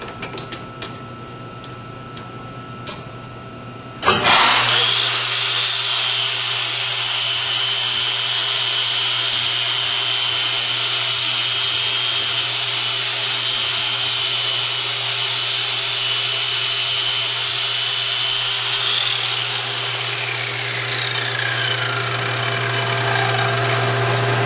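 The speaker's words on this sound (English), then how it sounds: "we use our dedicated lathe and a tubing sander to remove this" A dedicated lathe spins steel tubing while a tubing sander strips brown scale, starting abruptly after a few faint taps and then holding a loud, steady abrasive whir with a low hum that continues without pause.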